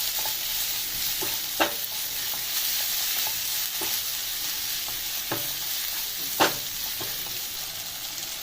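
Tomatoes and onions cook down in a pan for aloo palak, a constant close sizzle broken by a few sharp spatula taps and scrapes, with no voices.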